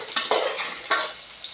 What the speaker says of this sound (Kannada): ಇದು ಗಜ್ರಿನೂ ಸ್ವಲ್ಪ ಫ್ರೈ ಮಾಡಬೇಕ್ರಿ